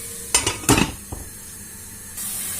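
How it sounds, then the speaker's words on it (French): A spoon stirs onions and shallots browning in a pan, giving a few short scraping, clattering strokes followed by a soft, steady sizzle. "Et je vais de temps en temps touiller."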